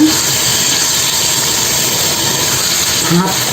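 Fish rubbed with turmeric, chili and salt fry in a pan, giving off a steady, fairly loud hiss of hot oil.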